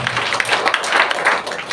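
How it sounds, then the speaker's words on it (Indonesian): Church audience applause during a sermon, a steady wash of many hands clapping with voices mixed in. "Give him a hand clap if you are giving him a hand"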